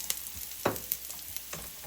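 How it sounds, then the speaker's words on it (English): Onions caramelizing in a pan for homemade pizza topping give a low, steady sizzle with a few brief stirring scrapes and clicks, heard up close and alone. "the onions are getting nice and caramelized, starting to cook down"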